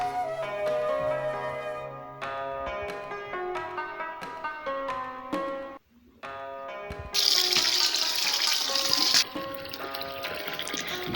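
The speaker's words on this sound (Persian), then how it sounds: "2 گلاس آب اضافه میکنیم" About two glasses of water pour into a pot of rice for chicken biryani, making a brief, rushing splash that lasts a couple of seconds over continuous background music.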